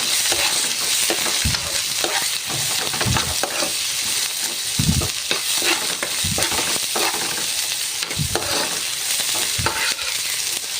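Onions and green chillies sautéing in a pan with tomato going in, a steady loud sizzle broken by repeated scraping stirs of the spoon throughout, with no talk.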